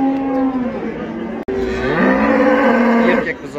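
A cow and a calf at a cattle market in Taraz moo loudly and up close, with one long low bellow, a brief break, then another rising, wavering call that fades near the end.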